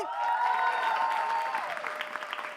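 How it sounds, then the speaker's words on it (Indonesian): A stand-up comedy audience applauds for the white team, a steady wash of clapping and crowd noise that thins slightly toward the end, with a held electronic tone running through it. "Tepuk tangan buat tim putih."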